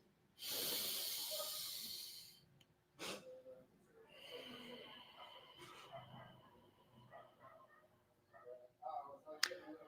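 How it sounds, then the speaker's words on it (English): A person demonstrating a breath-holding technique breathes audibly close to the microphone, drawing air in through the mouth and letting it out through the nose, with a strong hissy inhale at first followed by softer, irregular breaths. "I inhaled through the mouth, I exhaled through the nose"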